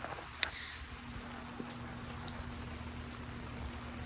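Faint steady rainfall outdoors, a soft continuous patter with a few scattered closer drops and a low hum beneath.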